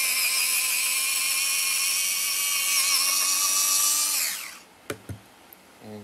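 A colored pencil being sharpened for a fox drawing: a steady, high, buzzing motor whine runs for about four seconds, winds down and stops, then a few sharp clicks and taps follow.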